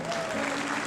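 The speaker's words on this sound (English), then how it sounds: "Give yourselves a round of applause." Audience applause at a motivational talk by a company CEO, a brief burst of steady clapping filling the hall with a faint tonal hum beneath.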